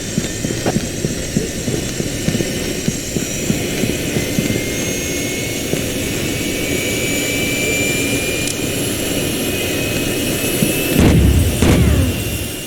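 A jet plane engine roars steadily in the Rainbow Six 3 video game, a loud continuous whine and rumble that swells briefly near the end.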